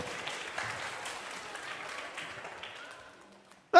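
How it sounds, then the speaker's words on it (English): An audience at a holiday club talk applauds for several seconds, the clapping close and steady before fading away, then a brief loud knock at the end. "Let's give Solomon the clap."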